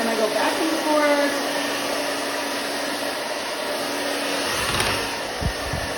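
A hair dryer blows loudly and steadily at close range while hair is dried, its whooshing airflow shifting slightly as it moves back and forth, with faint rustling near the end.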